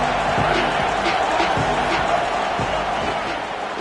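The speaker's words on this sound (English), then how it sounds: "This crowd trying to show them what it's going to be like all day in this house." Stadium crowd at a college football game, South Carolina at Oklahoma, a dense, steady roar of many voices filling the whole stretch, loud and continuous with faint rhythmic thumps beneath.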